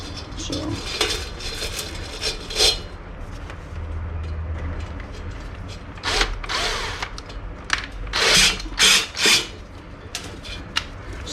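Drill-driven hone working inside a Harley Panhead cylinder bore during a budget valve job, a steady close whirring grind with several louder bursts as the tool speeds up or bites.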